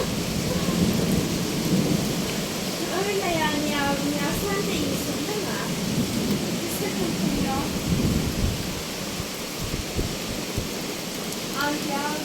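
Rain falls steadily over Denizli, Turkey, a dense continuous hiss with low thunder rumbling beneath it, while a voice and other tonal sounds briefly rise above the downpour.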